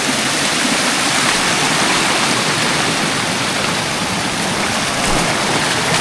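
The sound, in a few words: waterfall with two streams of water falling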